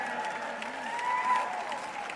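Applause from a church audience during a French-language sermon, a steady, fairly soft wash of clapping that holds evenly for a couple of seconds, heard at a moderate distance.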